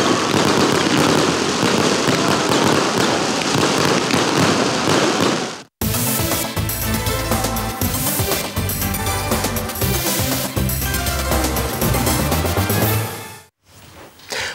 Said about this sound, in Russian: Завершился День города праздничным салютом, который украсил небо разноцветными огнями.